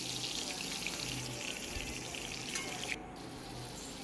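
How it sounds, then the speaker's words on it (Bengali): Potatoes for a meat curry frying in a pan, a soft steady sizzle and crackle that runs alone at low level and eases slightly near the end. "প্রথমে মাংসের আলুগুলোকে ভেজে নিচ্ছি।"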